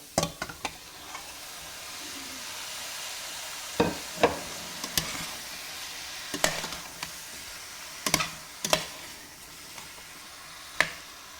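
Pork meat sizzling in a pan with carrots and onions over medium heat, a steady soft fry under sharp clacks and scrapes of a utensil stirring at irregular intervals.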